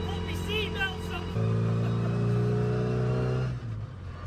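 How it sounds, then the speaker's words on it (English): A 1992 Minisport Mini drives along with a prominent gearbox whine rising and holding over the engine drone, then easing off, with people talking inside the car. "Listen to the gearbox whine."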